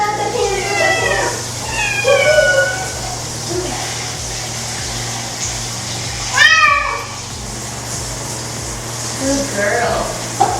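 A cat meows repeatedly while being bathed, several drawn-out, rising and falling cries near the microphone, spaced apart over running water, with a person speaking softly between them.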